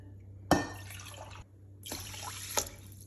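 Water poured onto soaked basmati rice in a pot, two splashing pours separated by a pause, the first starting with a sharp splash, heard close with a steady low hum underneath.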